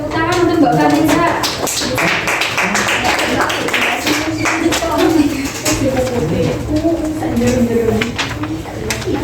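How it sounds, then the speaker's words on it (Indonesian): People in a classroom clap for a student presenter, with dense, close, loud applause lasting several seconds and voices talking over it. "tepuk tangan untuk Mbak Vanessa"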